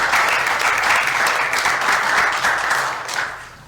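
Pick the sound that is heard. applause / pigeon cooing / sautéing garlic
applause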